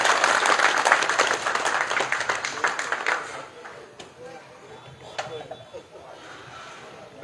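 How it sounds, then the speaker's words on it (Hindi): Crowd applause at a political rally, a loud burst of many people clapping that fades after a few seconds, then a quieter stretch with scattered claps and background noise. "ताली जोर से ताली बजा।"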